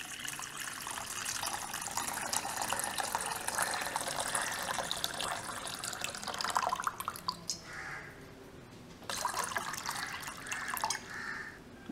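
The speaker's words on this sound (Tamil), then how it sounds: "அதுக்கு தேவையான அளவு தண்ணி விட்டுக்கலாம்" Water pours into a vessel to make panakam, a sweet drink for Rama Navami, a continuous splashing gush that pauses briefly and then resumes.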